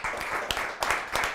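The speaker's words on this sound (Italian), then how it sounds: "fate un applauso a questi ragazzi" Applause for a group of young people at a Christmas gathering, a steady wash of clapping with a few sharper bursts throughout.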